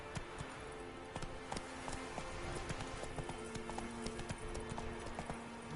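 Hooves of Roach, a horse in The Witcher 3 video game, trotting in a steady rhythmic clip-clop on hard ground, close and clear, with faint ambient background.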